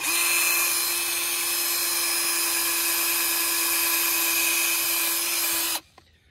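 A power drill with a dull bit whines at a constant high pitch for several seconds, grinding steadily without biting through, then abruptly stops.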